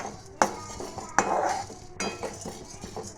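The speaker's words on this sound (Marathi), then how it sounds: "हे पहा आता आपली येथे डाळ अशी भाजत चालली आहे" Dal and sesame seeds dry-roasting in a pan with no oil, stirred with a metal spoon that gives a few sharp clinks against the pan over a soft rustle of the grains.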